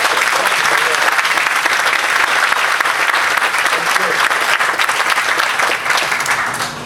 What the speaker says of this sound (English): Can you just give a round of applause for decades of leadership?